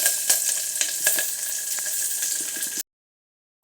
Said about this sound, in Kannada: ಸಾಸಿವೆ, ಕರಿಬೇವು ಎಲ್ಲ ಹಾಕ್ಕೊತಾ ಇದ್ದೀನಿ.